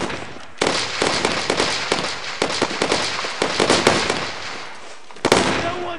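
Sustained gunfire from World War II weapons in the Brothers in Arms: Road to Hill 30 combat game, a dense run of loud, rapid cracks and bursts that rises and falls across the whole stretch with no pause.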